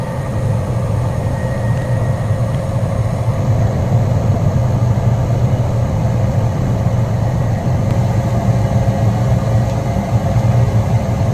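A Lennox gas furnace firing up after its gas valve opens: a steady, loud low roar and hum of burner and blower that holds unchanged for several seconds without talk.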